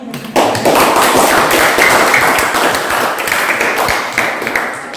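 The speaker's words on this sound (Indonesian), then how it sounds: "berikan aplaus dulu buat temannya" Steady applause from a group of people clapping for presenting classmates in a classroom, dense and close, starting abruptly and holding loud for several seconds.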